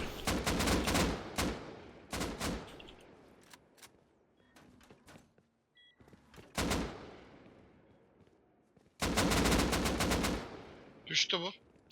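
Gunfire in the survival game Rust during an online raid, loud automatic bursts separated by gaps, with a long sustained burst near the end and a brief higher-pitched sound after it.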